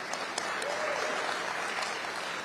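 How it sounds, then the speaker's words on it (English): Brief, fairly faint audience applause at a Democratic candidates' forum, a steady wash of clapping lasting a couple of seconds. "Y'all clap on that."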